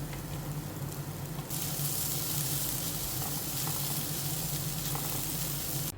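Grated coconut frying with chopped ginger, garlic and shallots for Kerala theeyal, a dense close sizzle that jumps sharply louder about a second and a half in and then holds steady and hissing.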